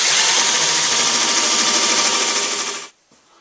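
A power drill pre-drilling wood whines steadily at high speed for nearly three seconds, loud and close, then cuts off abruptly.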